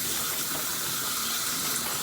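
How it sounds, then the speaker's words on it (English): High-pressure water sprays steadily as an object turned inside out is power washed, a continuous broadband hiss with no pauses, close and fairly loud with no talking. "you can turn it inside out and power wash like that"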